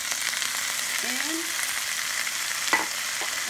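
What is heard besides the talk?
stirring onions, carrots and spinach sizzling in a pan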